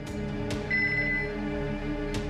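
A telephone rings with a trilling electronic tone over a steady background hum, the ring starting partway through and fading out.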